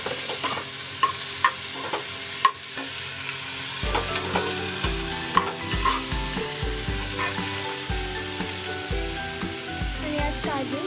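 Onion and tomato with cumin sizzling in a pan while a utensil scrapes and stirs with repeated knocks against the metal, a steady close frying hiss underneath, no talk.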